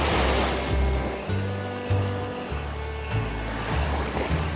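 Ocean waves wash against a beach shoreline with a continuous, loud surge and rushing wash, undercut by wind noise on the microphone.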